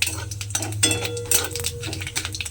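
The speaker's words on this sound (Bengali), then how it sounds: "এইবারে একটু নেড়ে চেড়ে ভেজে নিলাম" Cumin seeds are stirred and fried in a pan with a dried red chili, heard as a quick series of metallic scrapes and clinks of a spatula against the pan over a faint sizzle.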